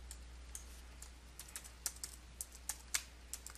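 Keys clack on a computer keyboard during QuickBooks Pro 2022 data entry, a sparse, irregular run of faint close taps over a low steady hum, with no talking.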